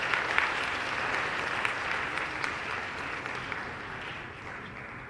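An audience gives a steady, dense round of applause for the daughters who sang the Madhya Pradesh anthem at a public event with Chief Minister Shivraj, continuous across the whole stretch.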